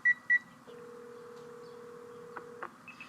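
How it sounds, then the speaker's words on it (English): A phone places a call: two short electronic beeps, then a long steady tone with a couple of brief clicks, clean and close in a quiet setting. "I find it in my phone and I give it a call."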